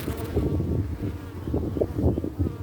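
Honeybees at an open hive make a dense, low buzzing drone, close and continuous, with many insects humming together.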